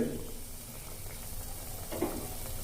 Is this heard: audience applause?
no